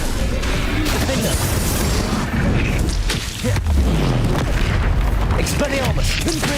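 Bombarda explosion spells booming in the Hogwarts Legacy video game, repeated heavy blasts and crashes amid dense battle noise, loud and close, with shouted spell voices over the top.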